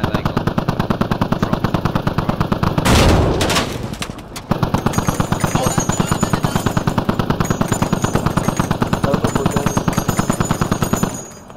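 Sustained automatic gunfire in a modded Squad military video game, a loud rapid stream of shots with a brief heavier blast near the middle before the fast firing resumes.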